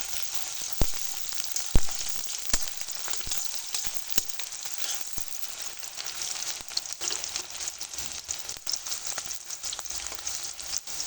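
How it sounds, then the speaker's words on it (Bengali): Onions fry lightly in a pan with a continuous soft sizzle, broken by sharp clicks and scrapes as they are stirred, close up and without voices. "পেঁয়াজগুলো আমি হালকা করে একটু ভেজে নেবো"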